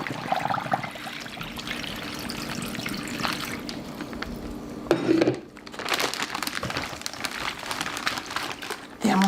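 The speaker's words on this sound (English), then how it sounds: "Yeah, I'm going to have to add more water." Water pours into a turkey brine container, a steady trickling, sloshing stream with a few crinkling, clunking handling sounds and brief pauses, under occasional talk.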